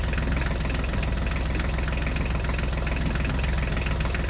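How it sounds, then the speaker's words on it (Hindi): A toy tractor's motor runs steadily, a continuous close-up buzzing drone with rapid even pulsing and no pauses. "चलो टुंग टुंग साहूर जल्दी से ट्रैक्टर गाड़ी को लेकर चलो।"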